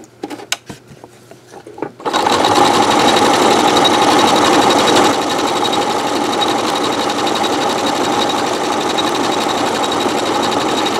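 After a few soft clicks and taps, a sewing machine starts and runs loud and steady, stitching a decorative pattern on a mosaic rope bowl, its fast rhythmic motor hum continuing alone to the end.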